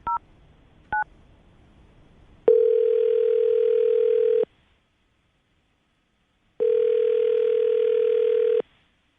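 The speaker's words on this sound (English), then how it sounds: "I'm going to dial the phone number, see if we can get her on the phone." A landline telephone line: two short DTMF key tones from dialing, followed by two long, steady ringback-style tone bursts separated by a gap of silence, loud and clear with no voices.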